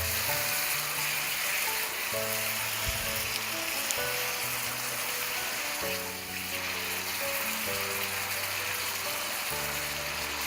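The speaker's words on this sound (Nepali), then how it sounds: "अब यो मसलाहरूलाई 4-5 मिनट जति यतिकै फ्राई गर्नुपर्छ" Spices frying in a pan for matar paneer make a steady, moderately loud sizzle throughout, with faint tonal music running underneath.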